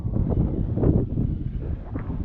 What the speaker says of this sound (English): It is still a little windy.